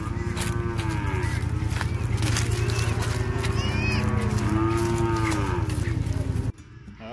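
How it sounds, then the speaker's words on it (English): Cattle moo repeatedly and loudly close by on a rural Cape York station in Queensland, with long drawn-out calls over a steady engine-like drone, ending abruptly near the end. "Trying to get the cow in."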